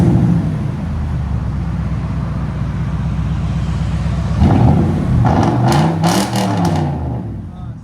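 A Toyota Tundra 5.7L V8 with true dual 3-inch tailpipes idles with a low rumble, then revs in a sharp rising and falling burst before settling back; a voice can be heard faintly around the engine.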